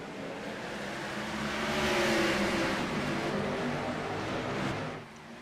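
A field of race cars surges off the green flag at Kentucky in an IROC series race, engines roaring together in a dense, swelling wall of sound that peaks mid-way, then eases.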